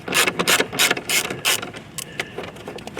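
A ratchet wrench backs a 6mm T27 Torx-head bolt out of a 2019 Mercedes-AMG GT R, giving several rapid, close clicking bursts that trail off into a few sparse clicks.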